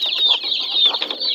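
A mother hen with her brood of chicks, from Hamit and Bulan bloodlines, makes close, steady clucking and high peeping in short repeated bursts, with no voices.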